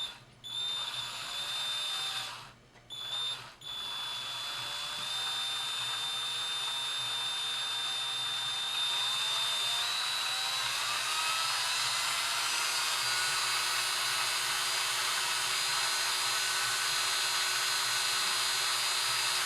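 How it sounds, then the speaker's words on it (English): A power drill whirs steadily at high speed for a long stretch while twisting wire, briefly stopping and restarting near the start, then running on continuously and close. "the drill should slowly start to push away from your hand"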